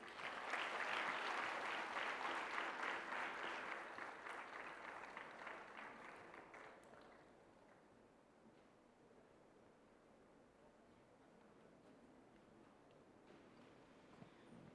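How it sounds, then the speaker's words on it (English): An audience at a conference session applauds with dense clapping that fades over several seconds into quiet room ambience. "A huge round of applause for the sir"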